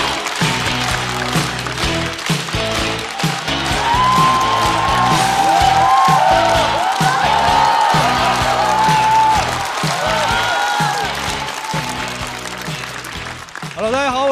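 A comedy club audience applauds and cheers as stand-up comedian Xue Bing walks onstage, the clapping loud and sustained over a rhythmic walk-on music track, with a few whoops rising from the crowd.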